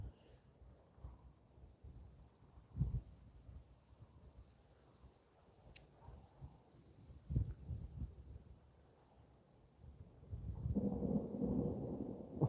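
Thunder from a developing thunderstorm over north-west England rolls in as several faint, distant low rumbles, and a longer, stronger growl builds near the end.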